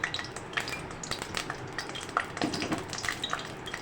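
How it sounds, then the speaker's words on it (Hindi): Kashmiri red chillies frying in mustard oil, a steady close crackle and sizzle with scattered sharp pops and light stirring scrapes throughout. "सरसों के तेल में डाल के पहले मैं इसे फ्राई करूँगी"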